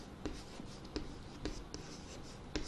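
Numbers being written on a board make short scratchy strokes and light taps in an uneven rhythm, close and quiet, with no talking.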